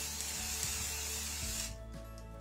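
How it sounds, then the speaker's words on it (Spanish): Spray paint hisses in a steady, close stream from a can onto a stencil on a fabric bag, cutting off abruptly before a brief clunk. "Ahora ponemos el spray, ¿vale?"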